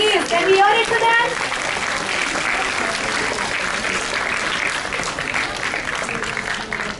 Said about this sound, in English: A huge round of applause for all of them, please.